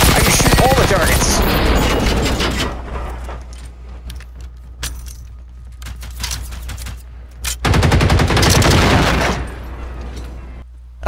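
Gunfire from the Generation Zero game rattles in rapid bursts, loud and close at first, then quieter scattered shots before another heavy volley near the end.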